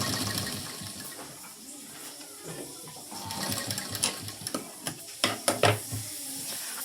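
A sewing machine stitches along the very edge of a puff sleeve, running in short bursts with sharp clicks and rattles toward the end, moderately loud and close with no talk over it.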